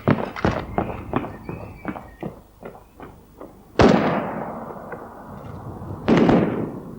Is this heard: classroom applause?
no